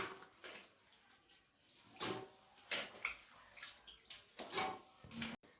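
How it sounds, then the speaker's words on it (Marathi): Water is poured over washed vegetables, including peas and bottle gourd, in a pressure cooker for pav bhaji. It comes as several short, soft splashing pours with quiet pauses between them and no speech. "भाज्यांमध्ये पाणी टाकून घेते."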